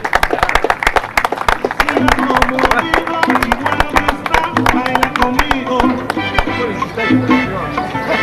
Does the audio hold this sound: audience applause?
yes